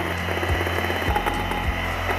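An electric mixer whirs in a steady, loud motor hum while beating cashew macaroon batter as ground powdered sugar is added, with a few brief bumps against the bowl.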